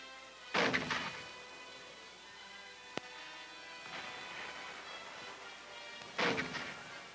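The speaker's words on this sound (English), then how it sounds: "a 25th Division Heavy Mortar Company fires at the enemy." Heavy mortars of a 25th Division company fire in the Korean War in 1950, booming blasts at the start and end of the stretch with a softer report between and one sharp crack, rolling echoes filling the gaps.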